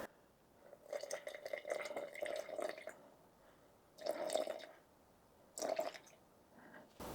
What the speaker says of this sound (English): let's add 50 grams of water